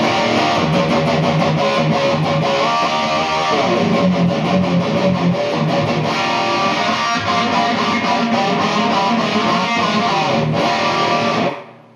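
An electric guitar through a Marshall DSL 20-watt amp plays dense, distorted chords and riffs that ring loud and close for about eleven seconds before cutting off abruptly.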